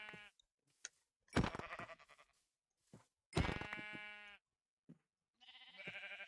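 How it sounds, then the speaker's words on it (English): Several sheep bleating in the Minecraft video game, a handful of separate wavering bleats with short gaps between them, clear and fairly close with no talk. "It's a lot of sheep here."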